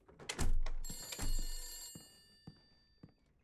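A telephone rings in the 1970s-styled office of the video game The Beast Inside: a loud, close bell rings in two long bursts, then fades into softer thumps and knocks, with no talking.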